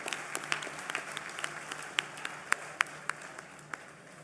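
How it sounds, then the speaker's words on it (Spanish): Audience at a Día d'Asturies political rally applauds, a steady patter of clapping with sharper individual claps standing out, moderately distant and tapering off toward the end. "Un aplauso para todos."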